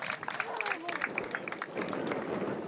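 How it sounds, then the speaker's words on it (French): An audience at a magic show applauds a volunteer, a soft, distant patter of clapping from a crowd, fairly faint and steady throughout, with voices murmuring underneath. "Ben on va applaudir Paulette bien fort pour la motiver un petit peu quand même."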